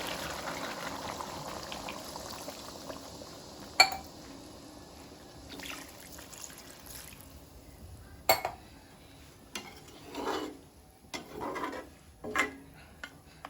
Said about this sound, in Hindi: तो मैं 2 ग्लास पानी डाल रही हूँ इसमें।